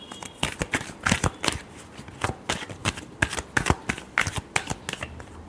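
A deck of tarot cards is shuffled by hand in a steady run of crisp, riffling flutters and soft slaps that stay close and fairly loud with no voice over them.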